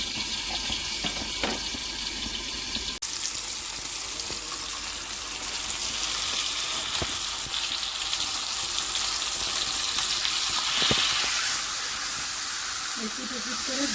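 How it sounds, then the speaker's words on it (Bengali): Marinated chicken pieces sizzle and fry in a pan with a steady, bright hiss, a sharp clatter near the start and scattered small pops throughout. "ম্যারিনেট করে রেখেছিলাম ওই চিকেনের পিসটা এর মধ্যে দিয়ে দিলাম। দিয়ে ঢাকা দিয়ে ঘুরিয়ে ঘুরিয়ে ভেজে নেব।"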